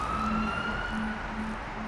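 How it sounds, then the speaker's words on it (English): Police sirens wail in an audio drama scene, a steady rising and falling tone heard over low rumbling street ambience, fairly close and growing. "By now, the sirens are almost upon him."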